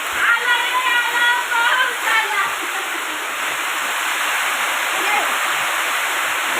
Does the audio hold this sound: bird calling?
no